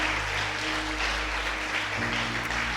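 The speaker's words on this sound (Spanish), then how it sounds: "Dele ese aplauso al Señor." A church congregation at a Spanish-language service applauds, a continuous even clapping that sounds somewhat soft and distant throughout.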